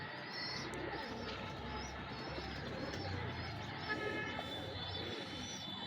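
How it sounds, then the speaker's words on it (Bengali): A pair of white golden pigeons coos softly nearby in low, repeated throaty calls over a faint background murmur, with occasional chirps from other birds in the loft. "এই এক পেয়ার হোয়াইট গোল্ডেন কবুতর দেখেন"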